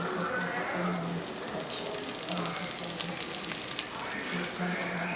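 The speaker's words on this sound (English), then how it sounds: "now I'm going to saute them right here" Green beans and wax beans, blanched from the garden, sautéing in a pan give a steady close sizzle with faint stirring clicks, and a quiet hum sits under the frying throughout.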